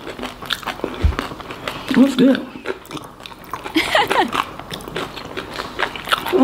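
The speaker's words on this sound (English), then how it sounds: "Oh, the crunch." Crunchy food bitten and chewed up close, a few crisp crunches and mouth sounds mixed with short spoken remarks.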